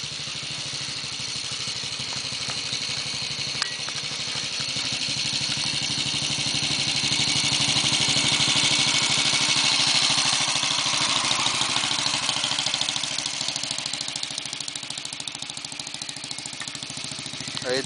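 A 1947 Royal Enfield motorcycle engine starts and runs steadily, a loud, close, continuous thumping idle with mechanical clatter that swells slightly in the middle and carries on to the end without talk.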